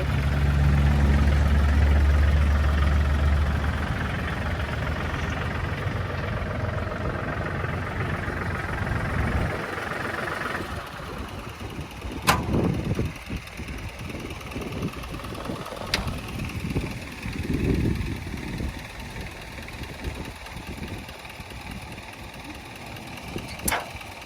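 A used farm tractor engine idles steadily and alone, a low continuous rumble at moderate distance, with a few sharp clanks and knocks breaking in partway through.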